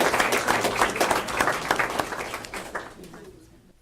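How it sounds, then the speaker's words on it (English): An audience at a school board meeting gives a round of clapping, dense and fairly close at first, then thinning out and fading away by the end. "not in attendance, we'll still give him an applause"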